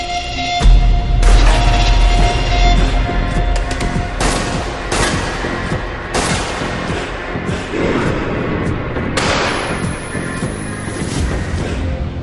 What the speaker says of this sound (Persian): وای تیراندازی با مهارت بود.